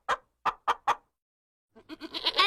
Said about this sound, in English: Yes, and there are hens.